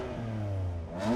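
A BMW M4 engine revved while parked, a brief rising snarl that climbs and holds, then dips and picks up again, close by and loud with no one talking.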